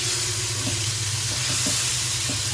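Meat sizzles steadily in a frying pan, a dense continuous hiss with soft crackles and a few stirring clicks, close and fairly loud throughout with no talking.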